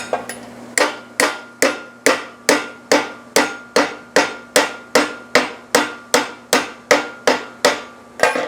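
Steady hammer blows bend a piece of metal for a trivet: about sixteen sharp, ringing strikes at an even pace, close and loud, with no talking.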